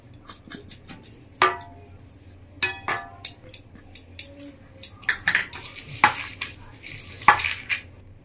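A spoon scrapes and clinks against a bowl while fish cutlet batter is mixed with flour, cornflour and ground pepper, giving irregular close knocks and scraping strokes, with a faint sizzle underneath.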